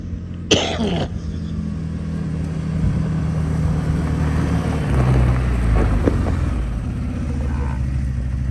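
A CFMOTO UForce 1000 side-by-side fitted with an RNG clutch kit driving past outdoors, its engine droning steadily with a rising rev toward the end and a sharp knock near the start.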